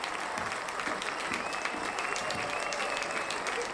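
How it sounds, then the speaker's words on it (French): Steady, dense applause from a theatre audience at a comedy performance, loud and continuous throughout with no pauses. "Vous pouvez pas applaudir ça, c'était minable."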